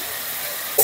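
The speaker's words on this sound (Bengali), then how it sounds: "মশলাটা দিয়ে ভালো করে কষে নিয়েছি" A spice paste of ginger, cumin and green chilli with turmeric and a little water sizzles in a pan, a steady soft hiss that ends in a brief louder burst.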